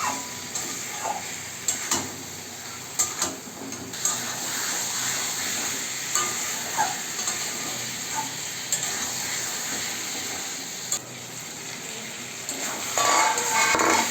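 Pieces of bottle gourd join chicken frying in a pan, bringing a bright, continuous sizzle broken by scraping stirs and light clinks of a spoon against metal, close and fairly loud, with no talking.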